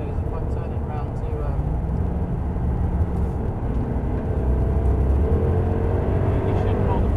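A Jaguar XJR-S lapping the Thruxton race track gives a steady, loud engine drone from inside the cabin, with the pitch rising gradually as it pulls, under faint occupant chatter.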